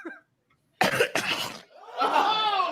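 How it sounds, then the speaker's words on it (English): A person coughs twice, loud and close, followed by a raspy, laughing exhale. "You start coughing."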